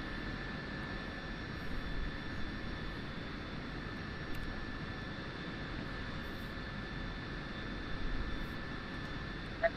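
A jet aircraft taxiing in the DCS flight simulator, a steady, fairly faint turbine whine and hiss holding even from start to end, with no talk heard.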